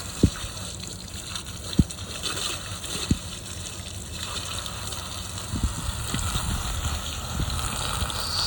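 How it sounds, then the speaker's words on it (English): Water gushes and splashes while rinsing out a seal coating filter, a continuous moderate flow with occasional soft knocks and bumps in the mix. "So now we'll rinse it out."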